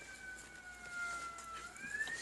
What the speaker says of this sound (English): We got a siren outside, which is very common for New York City.